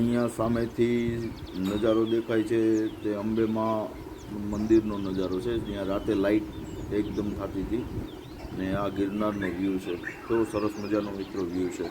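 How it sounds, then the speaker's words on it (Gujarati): Birds chirp and pigeons or doves coo steadily across a farmhouse near Junagadh in the morning, soft and continuous beneath someone talking throughout. "અહીંયા પક્ષીનો એવો કલરવ છે"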